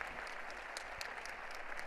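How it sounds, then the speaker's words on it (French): Applause from a church audience, a soft and fairly distant patter of many hands clapping at an even level for a couple of seconds. "Applaudissez-la bien fort."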